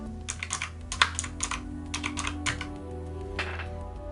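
Typing on a Razer keyboard, with a steady run of close, crisp clicky keystrokes in irregular bursts over a low background hum and no talking.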